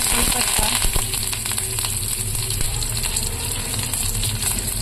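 Mustard seeds, then cumin, crackling in hot oil during tempering for a jackfruit-free Maharashtrian shengole dish, a dense continuous sizzle with scattered sharp pops, close and loud throughout.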